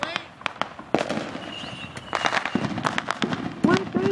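A hornet's nest firework goes off at a 4th of July backyard show, a rapid string of sharp crackling pops and whistling fizzes that builds and grows louder, with people talking and calling out between the bursts.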